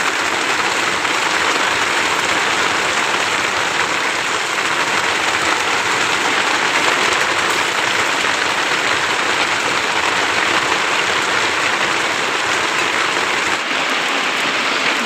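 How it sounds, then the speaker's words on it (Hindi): Steady rain falls at dusk outside a home kitchen, a loud, continuous broadband hiss that stays even and unbroken throughout, with no voices. "बारिश भी शुरू हो गई है"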